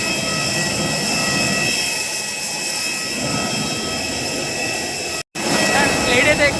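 Steady, loud jet engine roar from an airliner parked near the boarding area at an airport, a continuous broadband rush with a high whine, heard close by while a person talks over it, with a brief dropout near the end.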